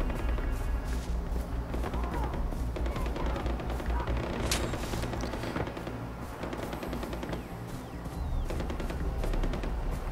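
Rapid gunfire in the video game Far Cry 4, loud bursts and cracks layered over constant game noise, with a sharp louder shot near the middle and firing continuing throughout.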